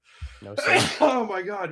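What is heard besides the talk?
sneeze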